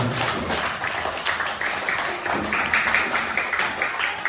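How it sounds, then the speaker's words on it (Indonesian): Group applause in a classroom during a coding and artificial intelligence lesson, a steady patter of many hands clapping with uneven bursts, fairly close. "Beri tepuk tangan dulu."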